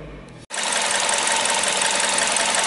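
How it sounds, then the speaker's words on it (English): Car engine idling with an unsteady idle speed that rises and falls, a close, steady broadband rumble that starts abruptly after a brief gap and continues without speech. "this idle is moving up and down in that way"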